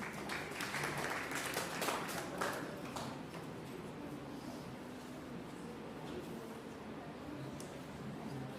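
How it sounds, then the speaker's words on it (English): Soft audience applause in a hall at a college science society event, a burst of clapping early on that fades into a quieter room tone with distant murmur. "Let's welcome her with a huge round of applause."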